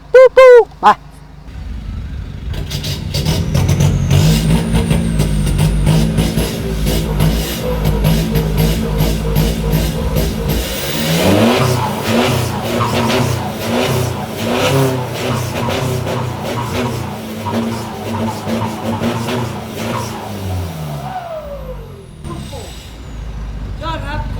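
An Isuzu four-door pickup truck engine revs hard and loud through its exhaust, rising and falling in roaring bursts, then trailing off near the end.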